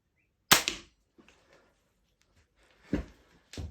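Triad crossbow cocked and fired, a sharp loud snap followed by small clicks, then after a quiet gap two more sharp mechanical cracks, close and dry with no talking.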